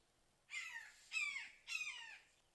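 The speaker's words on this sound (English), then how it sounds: "I don't know if you hear that bird up there. He's talking to us." A crow perched overhead gives three harsh caws in quick succession, fairly distant and clear over a quiet outdoor background during a spark plug change on a Buick Enclave.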